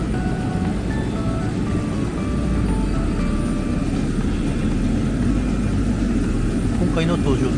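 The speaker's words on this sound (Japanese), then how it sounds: "今回の搭乗機はエアバス" Loud, continuous roar of an Airbus A318 airliner's engines nearby at Florence airport, a dense steady rumble with a faint high whine above it.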